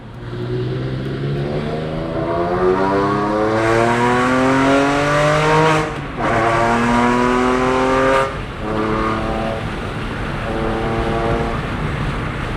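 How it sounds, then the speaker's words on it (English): A Porsche 996 fitted with a Slakker 4.1L engine, its exhaust loud and close, revving up and down repeatedly in rising and falling sweeps, with brief gaps between pulls. "I always loved the sound of the exhaust on this car."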